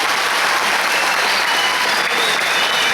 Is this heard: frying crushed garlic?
no